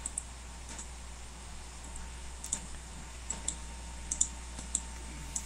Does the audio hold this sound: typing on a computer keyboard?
yes